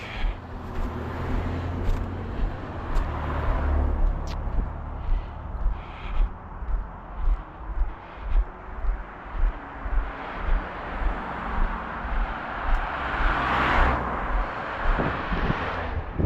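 Road traffic passes during an outdoor walk in Lewiston, Maine, with a constant low roadway rumble, vehicles swelling by at a moderate distance, and footsteps and wind noise throughout.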